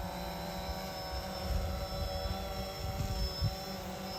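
Small aircraft flying forward in a nose-in orientation around cones, a steady droning rotor hum with a constant high whine, heard alone at moderate distance.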